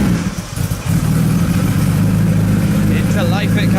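A Jaguar Lightweight E-Type with an aluminium engine fires up and settles into a loud, steady, throbbing idle close by after a brief uneven start.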